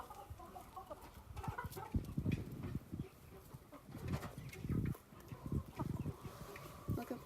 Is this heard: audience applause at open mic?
no